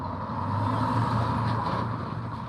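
Traffic in an alley, including a loud truck and a passing car, gives a steady, close engine and road rumble that holds at a constant level throughout, with no voices.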